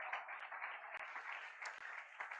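A church congregation at a Sunday covenant service applauds for about two seconds. The clapping is dense but fairly faint and a little distant, with a few sharper claps standing out.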